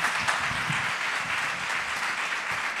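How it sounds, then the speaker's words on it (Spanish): An audience applauding a dance group at a folk festival, a continuous wash of clapping from many hands at steady volume, slightly distant, with no speech over it. "Un aplauso para ellos."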